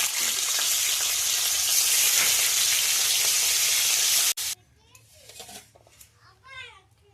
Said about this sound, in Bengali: কড়া গরম হয়ে গেছে ভেজে নেবো একটু হালকা হালকা করে ভেজে নেবো